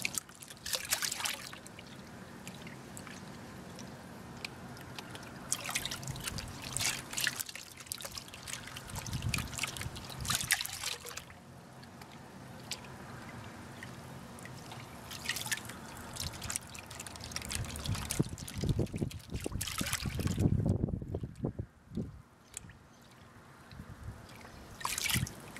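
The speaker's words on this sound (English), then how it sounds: "Water in the pan." Water trickles and splashes in a gold pan holding a soft-rock ore sample from Tasmania, a steady close wet swishing with brief louder sloshes and a heavier burst of pouring near the end.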